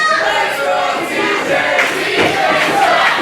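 A wrestling crowd at an indoor show chants loudly and continuously, split into competing rhythmic shouts that fill the space.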